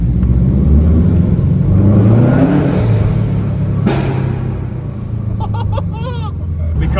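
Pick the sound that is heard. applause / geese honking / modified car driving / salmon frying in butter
modified car driving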